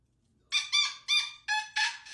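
A pet parrot gives five short, bright squawking calls in quick succession, close by and fairly loud in a quiet indoor room.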